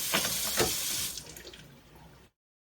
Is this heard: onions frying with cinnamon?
no